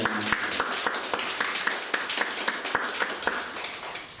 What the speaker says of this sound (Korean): 감사 박수 한번 합시다